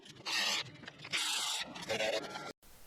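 A bolt head is cut off beside a throttle body in a car engine bay, heard as loud, close grinding bursts of harsh scraping that start and stop several times before cutting out abruptly.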